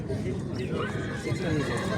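Horses at the Prigorodny livestock market in Bishkek, with a whinny rising over steady crowd chatter and faint hoof clops; voices talk throughout.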